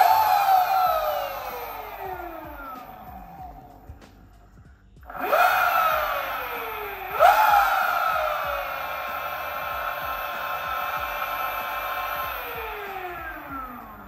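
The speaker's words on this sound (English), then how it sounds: "I've got the motor spinning right there." The electric motor of a Kawasaki KLX250sf dirtbike converted to electric whines as the throttle is revved, spinning up and down repeatedly, its pitch rising sharply with each rev then slowly falling away, loud and close.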